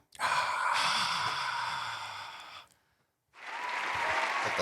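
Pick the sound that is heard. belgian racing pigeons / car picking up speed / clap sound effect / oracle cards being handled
clap sound effect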